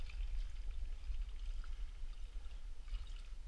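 Diesel poured from a canister into the fuel tank of a C-328/330 tractor, a steady gurgling pour with a low rumble underneath, close and continuous throughout.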